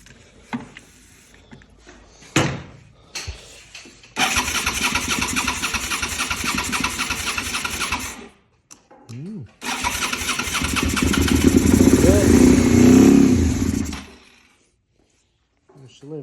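A Honda Blackbird or Suzuki SV650 motorcycle with a fuel problem cranks after a squirt of starting fluid: brief clicks, then two long loud bursts of churning starter and engine noise, close, with a short gap between them.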